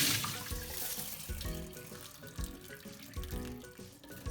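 Water runs steadily from a kitchen tap into a pot as rice is rinsed Japanese style. It is a faint, close, continuous splashing and trickling with no talk.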